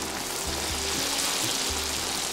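Battered banana slices frying in a pan of hot oil, a steady close sizzle and crackle with a few soft bumps of the pan, no voices.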